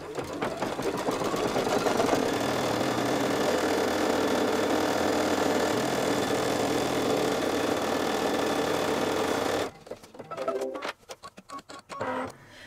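An embroidery machine stitches steadily as it tacks down fabric on a dachshund tote project, a loud continuous rapid mechanical whir that stops near the end, leaving a few scattered clicks and knocks.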